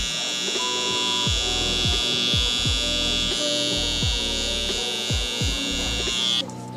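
Electric hair clippers buzz steadily and close while lining up around a client's ear on a curly-hair taper haircut, the motor tone shifting slightly as the blade touches hair, with faint talk underneath.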